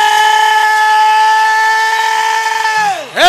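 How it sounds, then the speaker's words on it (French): Loud, sustained shrill whistle blown at a church service, holding one steady tone for about three seconds before sliding down sharply and cutting off. "akobeta sifflet pour Jésus de Nazareth"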